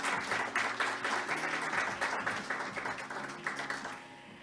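Sustained audience applause from a conference hall crowd, many hands clapping steadily at close range for several seconds before tapering off, with no talk over it.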